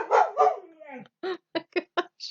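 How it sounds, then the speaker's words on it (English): A household dog barks in a short run of four or five sharp, evenly spaced barks right after a woman's brief spoken exclamation, close and fairly loud in an indoor room. "that's the dog"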